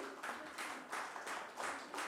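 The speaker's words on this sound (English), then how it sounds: "Please give them a big hand, ladies and gentlemen." Audience applause for contest winners at an event with Disha Patani, steady broadband clapping swelling in four or five repeated surges, moderately distant and fairly faint, with no talk over it.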